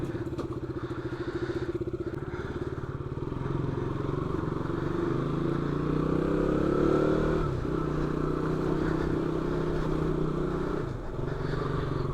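Motorcycle or vehicle engine heard through a helmet-mounted GoPro microphone, a continuous loud rumble with rising and falling revs and wind buffeting, close and muffled, with no talk over it.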